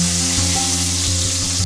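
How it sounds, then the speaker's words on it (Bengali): Potatoes and pumpkin fry in a pan with a steady sizzle and a few soft stirring knocks, close and continuous through the brief moment. "এবার আমি আলু কুমড়োটাকে একটু নাড়াচাড়া করে নেব, সামান্য 2 মিনিট মতন এটাকে একটুখানি ভেজে নেব।"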